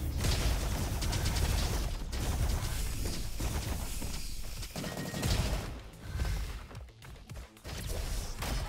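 A Tesla rifle in the shooter Roboquest fires continuously through a dense wall of combat noise, crackling and crashing steadily with a few brief dips, loud and busy.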